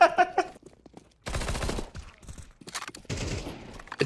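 Gunfire in the Counter-Strike video game, with sharp bursts of rapid shots in several clusters, loud and close, separated by short quiet gaps.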